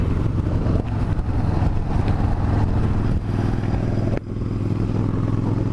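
A motorcycle engine runs after carburetor work, a steady, close, loud idle rumble with slight dips in level, alone with no talking.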